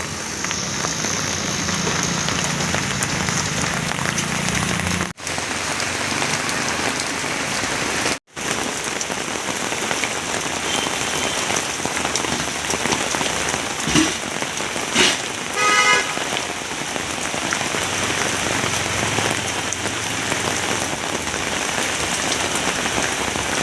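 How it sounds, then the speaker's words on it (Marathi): Heavy rain falls across the city of Nashik, a loud, unbroken hiss of downpour on the streets. A few faint vehicle sounds and a horn-like tone rise through it, with no talk. "नाशिक शहर परिसरात आज दमदार पावसाने हजेरी लावली."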